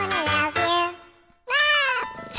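A kitten meows twice, two drawn-out, clear cries close by separated by a short pause.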